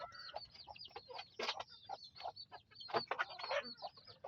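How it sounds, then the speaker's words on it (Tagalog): Darag native chickens cluck and call in bursts close by, with irregular overlapping clucks and squawks over a steady outdoor background, no talking. "Dito po malalaki na po yung darag chicken ko."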